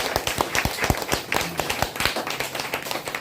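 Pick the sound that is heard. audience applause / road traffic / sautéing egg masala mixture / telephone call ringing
audience applause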